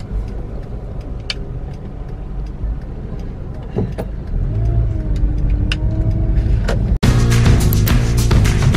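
Steady rumble of a car driving along a road, heard from inside the cabin, with engine tone rising and easing as it goes and a brief louder knock near the end.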